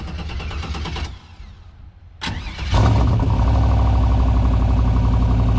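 A turbocharged 6.0 LS V8 in a rough-running car that still needs a tune cranks over, stumbles briefly, then settles into a loud, steady, close idle with a continuous rumble and no talking.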